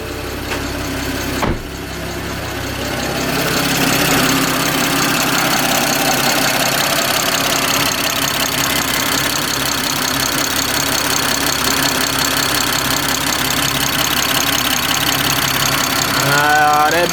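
An engine fitted with a Dorch Engineering DS25 upgrade and running on flex fuel starts with a sharp catch, then settles into a loud, steady running drone that holds to the end.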